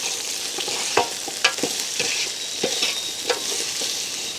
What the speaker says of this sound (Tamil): இப்போ வந்து நல்ல வடிவாக நாங்கள் கலந்து விடுவோம்